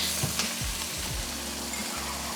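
Amino acid seasoning sizzling hard in a hot pan of bacon-fat gravy, with steady loud frying hiss and a few scraping stirs of a utensil against the pan.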